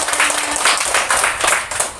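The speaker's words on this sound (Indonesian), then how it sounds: "tepuk tangan untuk kita semua" Children clapping together in a classroom lesson, a lively, uneven burst of many small hands with loose rhythmic pulses, fairly close and steady throughout.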